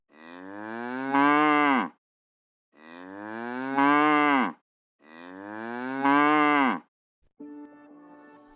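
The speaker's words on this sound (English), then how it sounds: "It's a cow." A cow gives three long, loud moos, each rising and swelling before breaking off, separated by short silences, close by with no other sound.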